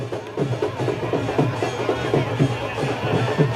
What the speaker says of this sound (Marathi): ही दृश्य आहेत पुण्यातली भाजपच्या विजयी जल्लोष रॅलीची